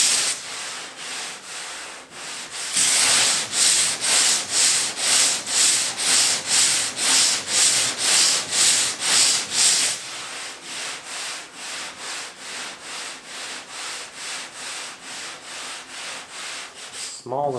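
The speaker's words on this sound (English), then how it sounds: "I'm going to grind this out and put some short strand filler over it and then reseal it with the epoxy." Grinder working out a rusted patch on a car body panel ahead of short strand filler, a steady rasping abrasive whir in repeated regular passes, louder in the middle stretch and easing off toward the end, with no talk.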